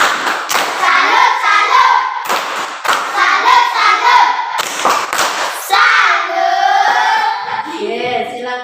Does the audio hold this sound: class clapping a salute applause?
yes